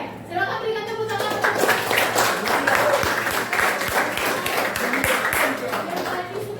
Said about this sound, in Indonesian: Oke, silakan berikan tepuk tangan.